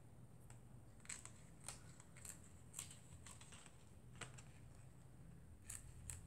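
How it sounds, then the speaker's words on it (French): Scissors snip away excess paper from a textured bookmark in a quiet room, a series of sharp, crisp cuts coming every half second or so, close and fairly faint, with no talking. "on va couper le surplus derrière"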